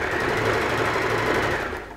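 A sewing machine stitches the lining seam of a lined zipper clutch bag, giving a steady, close, continuous mechanical whir for about two seconds with no talking.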